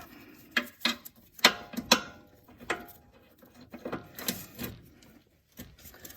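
A ball joint bolt being started by hand on a 2012 Hyundai Tucson front suspension, a series of irregular metallic clicks and ticks, close and fairly quiet, with pauses between them.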